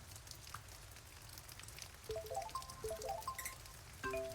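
Pouring rain patters softly and steadily on surfaces in NAMELESS, a faint continuous hiss with scattered drops, joined midway by a few light tonal chimes.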